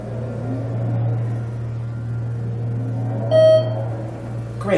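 Electronic beep of a parking garage elevator at an MBTA garage in Leominster, a single short clear tone near the end over a steady low hum of the car's machinery, with no talking.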